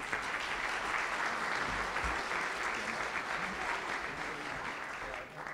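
Sustained applause from a workshop audience after a panel session, a steady dense wash of clapping that holds evenly throughout and fades slightly at the very end, with a faint murmur of voices underneath.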